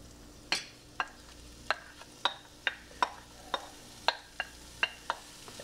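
Vegetables and garlic stirred in warm oil in a pot for split pea soup with ham, a run of sharp scraping clinks from a spoon against the pan over a faint sizzle, evenly spaced about twice a second.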